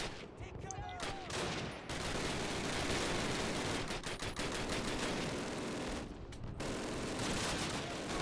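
Sustained gunfire in the 2003 Call of Duty video game, loud rapid automatic bursts rattling almost continuously, broken by two brief pauses, with a faint voice briefly in the background.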